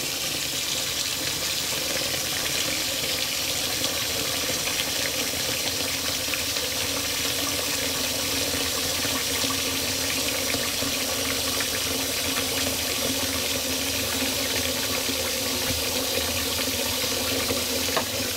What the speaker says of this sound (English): Trying to fill the sink up again just so I have some water in there for my razor.